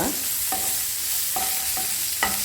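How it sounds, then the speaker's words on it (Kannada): Food frying in a pan makes a loud, even sizzle, broken by three or four clear metallic scrapes of a stirring spoon at steady intervals. "ಇದು ಸ್ವಲ್ಪ ಫ್ರೈ ಆದರೆ ಸಾಕು ತುಂಬ ಫ್ರೈ ಆಗೋದು ಬೇಡ"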